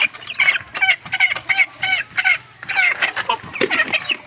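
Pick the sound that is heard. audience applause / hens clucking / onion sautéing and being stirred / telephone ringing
hens clucking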